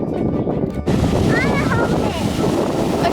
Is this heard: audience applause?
no